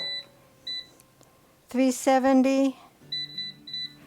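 Air fryer beeping as it is set: a few short electronic beeps sound before and after a person speaks briefly close by.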